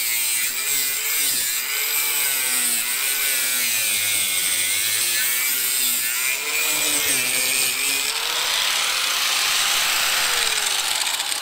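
Right angle grinder cutting through a pole, running off a Bluetti EB3A portable power station; a loud, continuous harsh grinding whine with wavering pitch holds steady for the whole stretch, with no talking over it.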